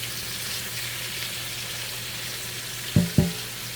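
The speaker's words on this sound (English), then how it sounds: "now I've taken the lid off because now I can start browning" Potatoes and onions sizzle and brown in an uncovered pan with a steady, close frying hiss, broken near the end by two sharp clatters of a utensil.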